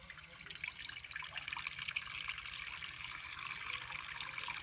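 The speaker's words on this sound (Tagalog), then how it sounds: "Lagyan mo ng ano mga idol, tubig mga idol." Water splashes and trickles steadily into a pot holding avocado and guava leaves, a continuous near pouring sound with no talking.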